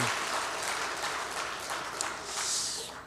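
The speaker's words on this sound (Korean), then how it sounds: "네, 박수하겠습니다." A church congregation claps together in a sustained burst of applause, a dense patter of many hands that holds steady and then begins to fade, with a faint voice briefly under it.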